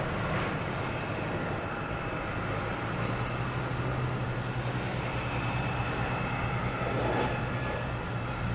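A Delta A321neo airliner at Boston Logan gives off a continuous, moderately distant jet rumble and whine that holds steady throughout, with no voices.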